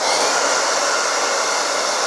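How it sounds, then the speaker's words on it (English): A blow dryer blows steadily on the glued lace of a wig during an install, a loud, even rushing hiss with no break and no talk. "I'm gonna take my blow dryer for this one."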